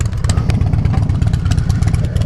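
An air-cooled Harley-Davidson Dyna Low Rider S motorcycle engine idles close by, a loud, lumpy, rhythmic rumble with mechanical clatter that stays steady and is heard alone.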